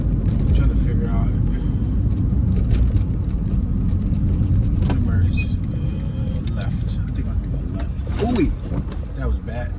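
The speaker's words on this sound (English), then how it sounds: "There's a car flying right next to me." A car speeds past alongside a moving vehicle on a street in Adamsville, Atlanta, Georgia, its close rushing engine noise blending into steady road rumble and wind.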